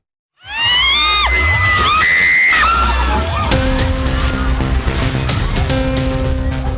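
Hysterical, panicked screaming from a crowd as an ombak banyu swing ride collapses at a night market in Purworejo, loud and sustained cries rising in pitch, followed by a dense clamor of shouting voices.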